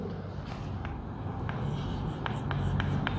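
Words for a Hindi grammar lesson are written by hand in short, scratchy strokes with small pauses, over a steady low background hum.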